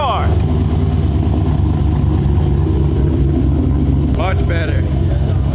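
Camaro with a freshly installed aftermarket exhaust idles loudly with a raspy, choppy rumble, then gets a brief rev near the end, while people talk nearby throughout.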